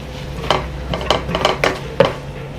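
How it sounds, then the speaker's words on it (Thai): A metal utensil scrapes and clinks against a pan in several sharp, irregular strokes as minced pork is stir-fried, close and fairly loud, with only faint sizzling underneath. "จากนั้นก็ใส่หมูสับลงไปค่ะ เดี๋ยวเราหมูสุกกันนะคะ"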